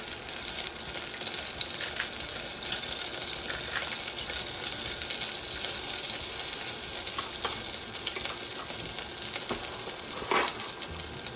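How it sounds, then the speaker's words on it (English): Ronzoni gluten-free pasta broken into a hot pot, a continuous close sizzle with scattered sharp crackles and snaps as pieces land. "you wanna break it up as small as you can into the pot"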